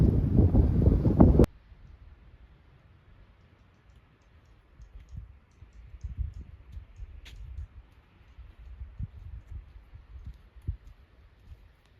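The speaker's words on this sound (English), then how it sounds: "Wind is a kicking." Strong gusting wind on an exposed stretch of the Appalachian Trail buffets the microphone in low, uneven rumbles after a brief loud burst at the start, with occasional faint clicks.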